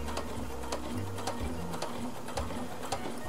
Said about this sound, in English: And it's sewing just fine close to the edge.